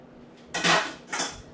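Dirty dishes and cutlery clatter as they are gathered from a kitchen counter, two short bursts of clinking ceramic and metal close by, with no voices.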